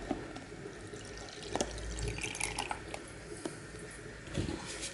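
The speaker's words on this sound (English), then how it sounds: "So we'll just wash these pins down." Water running and splashing over gold foils and pins recovered from ceramic CPUs, a steady trickling rinse with scattered drips, squishes and light clinks, fairly close and unaccompanied by speech.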